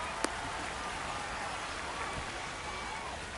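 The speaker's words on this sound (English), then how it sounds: "the rain's still a factor here" Steady rain hiss falls across a ballpark in the MLB 26 baseball video game, a continuous broadband wash with a brief sharp tick near the start and no clear voices.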